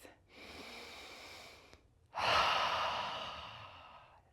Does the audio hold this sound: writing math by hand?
no